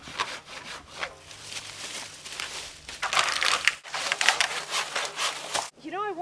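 An old hundred-year-old thrift store handsaw cuts through a wooden ridge pole for an outdoor debris shelter, with rhythmic rasping push-pull strokes, close and fairly loud, repeating steadily before a brief pause.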